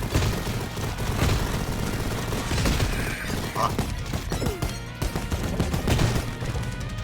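Rapid machine gun fire bursts from the video game Mighty Goose, dense continuous rattling shots mixed with explosions, crashes and chiptune-like game music, loud and busy throughout.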